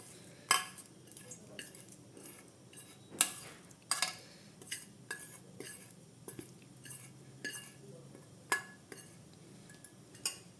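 Raw mango pickle being stirred with fried tempering mixed in, giving a steady run of close, sharp spoon-on-bowl clinks and scrapes at an irregular rhythm, with no voices.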